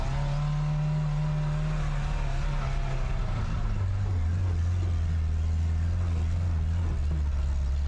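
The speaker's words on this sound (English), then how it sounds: "Driving Ronaldo's Lambo is really fun" A Lamborghini sports car engine drones steadily while driving, its pitch dropping midway as it shifts, a continuous loud rumble with no talking.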